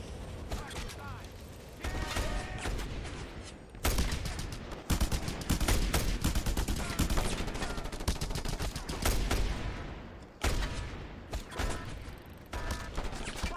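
Autocannon fire in the video game Just Cause, with dense, sustained bursts of heavy rapid shots and mechanical clatter running almost continuously, loud and close, with brief pauses between volleys.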